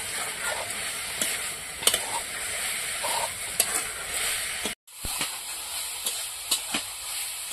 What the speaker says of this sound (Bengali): আমার এদিকে মূলো শাকও ভাজা প্রায় হয়ে এসেছে।